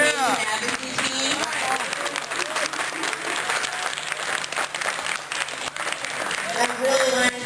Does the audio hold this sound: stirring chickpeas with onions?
no